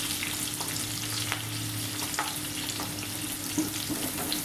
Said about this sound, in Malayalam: ക്യാപ്സിക്കം ചെറുതായിട്ടൊന്ന് വഴങ്ങാൻ മതിയത്.